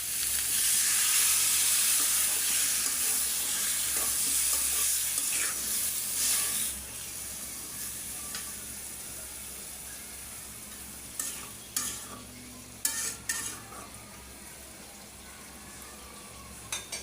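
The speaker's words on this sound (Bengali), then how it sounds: "একটু পানি দিয়ে এখন ভালো করে সবজিটা কষায় নেবে" Potatoes and papaya with ginger and garlic stir-fried in a pan, a loud steady sizzle for the first six seconds that then settles lower, with a few scraping stirs and light clinks near the end.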